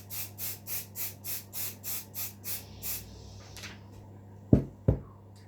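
An aerosol can sprays onto card for a scrap-crafting mask, in about nine short rhythmic hisses that stop, followed by a couple of sharp taps, with no talking.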